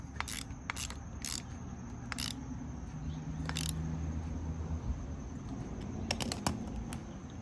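A torque wrench clicks on a part of a small 52cc two-stroke outboard motor, with a series of sharp ratcheting clicks in short bursts over faint low mechanical hum.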